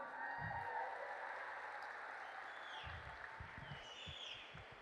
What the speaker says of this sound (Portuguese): Vocês merecem aplausos agora.